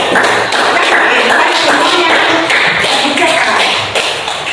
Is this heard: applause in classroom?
yes